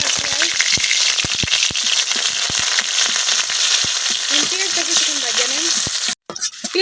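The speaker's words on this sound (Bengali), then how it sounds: "তেল গরম হয়ে গেছে। এখন তেলের মধ্যে দিয়ে দিচ্ছি" Onions frying in hot oil in a kadai in a village kitchen, a loud continuous sizzle with sharp stirring knocks and scrapes scattered throughout, then a brief break near the end.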